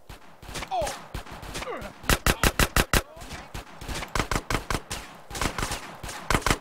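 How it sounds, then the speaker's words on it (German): Rapid bursts of gunfire from the video game GTA San Andreas, with several tight volleys of shots cracking in quick succession, mixed with chaotic game sounds and some talk. "Wo schießen die denn jetzt her?"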